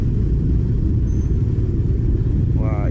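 A Honda PCX 160 scooter rides through city streets, giving a steady low engine hum and wind rumble heard close and continuous, with a brief voice at the end.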